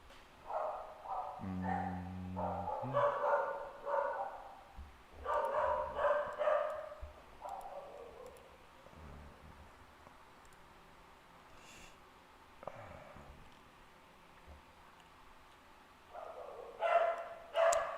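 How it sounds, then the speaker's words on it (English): Several dogs barking in bursts in a home, some barks loud and near, with yips and a whimper between quieter gaps. "Sorry, my dogs are crazy at the moment."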